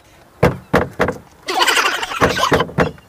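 A hand hits the rear parcel tray of a Maruti Brezza: several sharp knocks with rattling, then a longer burst of buzzing clatter followed by more thumps, close and loud, with no talking.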